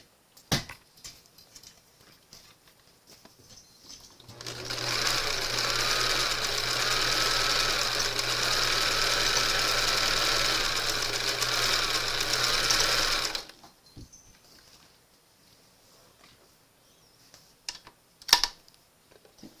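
A vintage JCPenney 0104 heavy duty sewing machine stitches through fabric in a steady, loud mechanical run of about nine seconds, with quiet pauses before and after.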